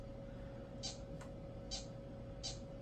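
A cat meow system sound from the Garfield desktop theme on Windows Me, repeating three times at a steady pace over a faint constant hum, each cry short and fairly quiet.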